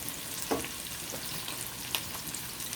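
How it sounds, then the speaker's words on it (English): Onion, garlic and ginger sauteing in a pan, a steady soft sizzle with a few light clinks of stirring, close and alone. "I'm sauteing the onion and the garlic right now, and a little piece of ginger also."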